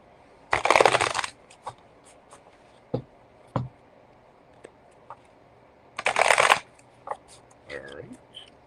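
Oracle cards are shuffled in two quick riffling bursts, separated by soft taps and handling noises in a quiet room.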